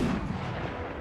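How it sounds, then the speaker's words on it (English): Ship cannons firing broadsides in Total War Empire naval combat, a dense, continuous roar of overlapping booms that fills the whole moment without a break. "it's getting some good broadsides with the few cannons it does have against the Zebek"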